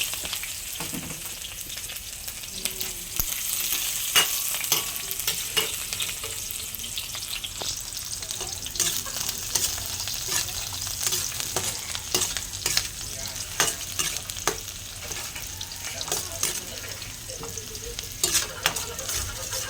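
Garlic and onion frying in hot cooking oil, a continuous close sizzle with frequent scraping stirs of a utensil against the pan, no talk.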